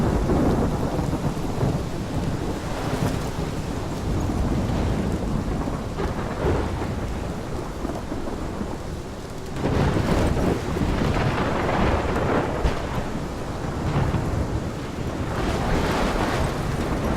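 Heavy storm rain and thunder in Life Is Strange, a dense constant roar with deep rumbling swells and gusty wind, loud and unbroken with no voices.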